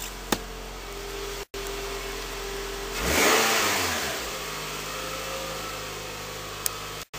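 A 2008 Toyota Scion car engine cold-starting: a brief crank about halfway through, then a loud rising rev that settles into a steady, fast idle, close by with no talking.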